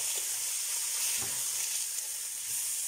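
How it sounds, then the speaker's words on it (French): Pieces of veal browning in a hot pan for a Béarnaise-style veal sauté with vegetables, giving a steady, close sizzle and frying hiss that carries on evenly throughout with no talking. "la viande revient bien. Il faut une bonne coloration"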